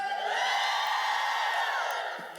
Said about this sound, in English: you're here shouting in encouragement